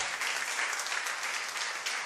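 A church congregation claps steadily and enthusiastically, a dense wash of applause with no pauses.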